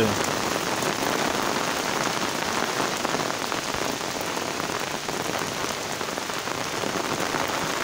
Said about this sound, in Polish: jest całkiem niezła ulewa.